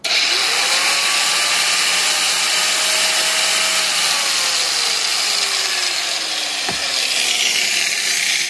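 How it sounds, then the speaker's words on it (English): Heat gun running on its 600-watt setting from a VTOMAN 600W portable power station, a loud, steady close whir and airy rush that holds constant throughout. "this heat gun pulls 600 watts or 1200"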